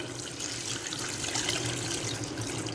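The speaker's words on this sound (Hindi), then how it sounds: "और हम यहाँ 2 गिलास पानी के डालेंगे" Water is poured from glasses into a pressure cooker pot holding beef, onions and spices for a dahi karahi gosht, a continuous close splashing pour with no talk.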